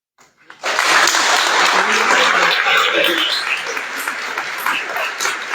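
An audience at an academic talk breaks into sudden loud applause after a brief pause, a dense wash of clapping that holds steady then tapers slightly over about five seconds.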